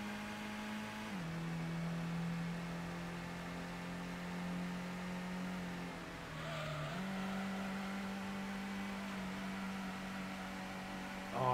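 Engine drone of a racing car in the original Gran Turismo video game, a steady buzzy hum that dips as gears shift and swells again, heard alone without commentary.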